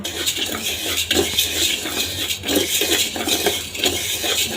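Vermicelli frying with egg in a pan, dominated by busy close metal-on-pan scraping and clinking of a spatula stirring continuously, with a constant background hiss throughout.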